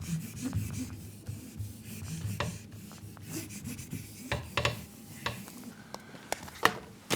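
Someone erasing writing from a board, a rough rhythmic rubbing and scuffing with repeated short strokes, close and fairly loud, with no talk.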